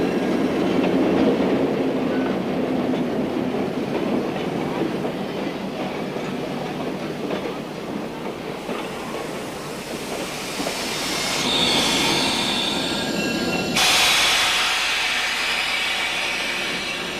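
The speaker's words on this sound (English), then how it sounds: "Then our train continues on for another trip around the mile-long loop track." A museum train runs around the mile-long loop track at Portola Railroad Museum, rumbling steadily with wheel squeal and clickety-clack that shift as it rolls on, with no talking.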